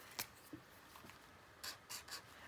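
A white paint pen, like a small Posca marker, writes on black tester paper: faint, quick scratchy strokes in a few short bursts with quiet pauses between them.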